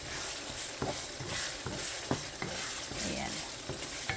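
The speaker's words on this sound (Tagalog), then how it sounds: "Lulutuin pa po natin mabuti yung kamatis at bago natin ilagay yung alamang" Tomatoes with spices and ground black pepper sizzle steadily in a pan while a utensil scrapes and stirs in sharp, irregular strokes, cooked down before shrimp paste goes in for homemade bagoong.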